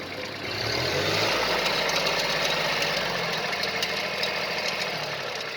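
A Kubota GR16 small tractor engine idles and runs steadily nearby, a constant rumbling drone with a slight knocking texture and no voices.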